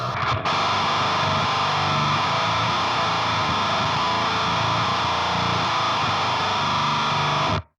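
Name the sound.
distorted electric guitar slash chord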